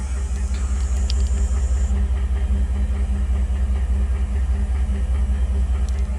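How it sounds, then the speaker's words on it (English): A car engine idles at the exhaust with a steady, even low rumble and regular pulsing, close up and uninterrupted for several seconds. "Let's listen to the exhaust"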